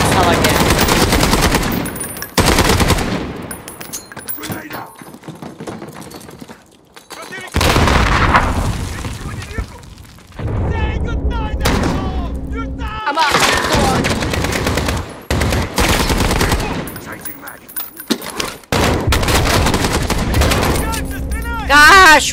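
Gunfire in Call of Duty Modern Warfare Warzone, with repeated loud bursts of automatic fire and single shots separated by brief quieter gaps, close and dense, with a voice talking in places.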